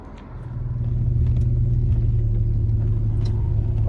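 A 1957 Jaguar XK150 fixed-head coupe accelerates at full power on an open road, its engine a steady, loud low rumble that swells in the first second and then holds strong throughout.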